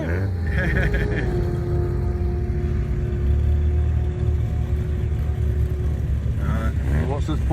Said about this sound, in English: Watch how fast that Porsche is. That Porsche is an absolute rocket ship.